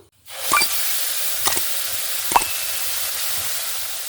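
Ground spice paste hits hot oil for a katla fish kalia, bursting into a loud, steady hiss and sizzle with a few sharp crackles and scrapes, no speech.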